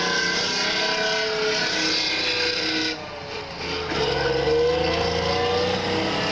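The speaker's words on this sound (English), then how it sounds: "Being on top of 56 tons of rolling, heaving metal is an incredibly posy thing to do." A heavy 56-ton military tank driving at a military show, a loud, continuous engine roar with grinding, squealing track noise that dips briefly and then swells again, heard up close with no speech.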